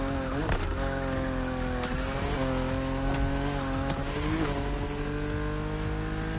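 A BMW Z4 E89 coupe cabriolet is driven in the Motorfest racing game. Its engine drones continuously and close up, rising and falling in pitch with gear changes, with tire squeal mixed in.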